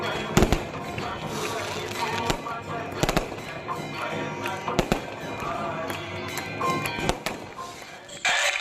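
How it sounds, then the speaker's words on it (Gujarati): Firecrackers go off during a temple aarti in a dense, continuous crackle of bangs and pops, with sharper reports standing out and a busy crowd-like din underneath. "આ મંદિરમાં આરતી થાય ત્યારે ફટાકડા બહુ ફોડે છે"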